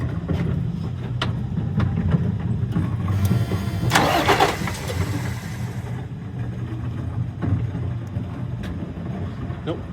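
The starter of a Freightliner M2 truck engine bumps it over a few times in a shop, with short grinding cranking bursts over low steady background noise and no firing into a run.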